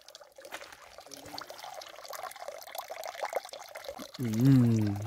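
Water pours and trickles steadily from the Fontaine Saint-Roch, a public drinking fountain on the GR 65 pilgrimage trail, under people talking nearby, with a louder voiced sound near the end.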